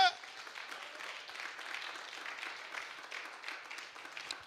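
A church congregation applauds and cheers in praise of God at a New Year's Eve service, a steady wash of clapping and crowd noise that holds at moderate level throughout, somewhat distant.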